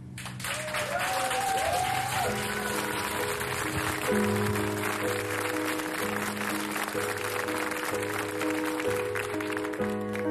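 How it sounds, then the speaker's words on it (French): A live audience at the Direct Star Sur Seine show applauds steadily and loudly as sustained music tones begin playing underneath. "On applaudit."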